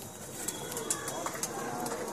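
Pigeons coo faintly among a rooftop flock of high-flying pigeons in the evening, low soft calls half-buried under steady outdoor wind and hiss, with a few brief sharper bird chirps scattered throughout.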